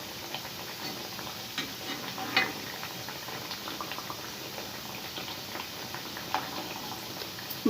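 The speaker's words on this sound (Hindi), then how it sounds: "मतलब ये फ्राई होते जाएंगे और अपने आप ऊपर आ जाएंगे।" Sweet mathri (shakarpara) fry in hot oil with a soft, continuous bubbling sizzle, quiet and even, broken by a few faint pops.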